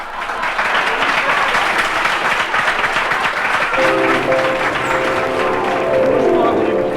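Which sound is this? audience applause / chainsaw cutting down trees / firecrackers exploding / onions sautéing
audience applause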